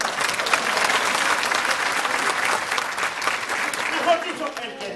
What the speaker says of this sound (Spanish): Haga un aplauso a la abuelita